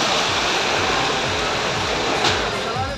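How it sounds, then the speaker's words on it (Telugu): Floodwater from heavy rain rushes into the Kadiri Lakshmi Narasimha Swamy temple, a loud continuous roar of flowing water with a brief splash near the end. "భారీ వర్షానికి కదిరి లక్ష్మీ నరసింహస్వామి ఆలయంలోకి భారీగా వరద నీరు చేరింది"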